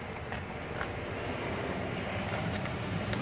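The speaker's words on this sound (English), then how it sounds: "Airplane." A broad, steady engine drone of an airplane passing overhead, sustained and moderately loud with faint clicks on top.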